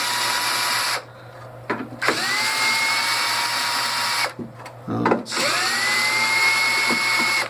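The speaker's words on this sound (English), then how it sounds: "Sounds like the drill's dying." A weak electric drill whirs while backing bolts out of a temperature control unit being scrapped, running in several bursts with pauses, its pitch sliding up as it spins, with a constant mechanical hum underneath.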